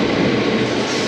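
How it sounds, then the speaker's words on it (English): Dutch railways train pulling into a station platform, a loud, steady rumble of carriages and wheels on the track close by, with no talking. "The train is right on time."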